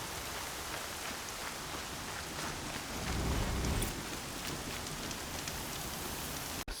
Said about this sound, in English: Been waiting for the storm to hit.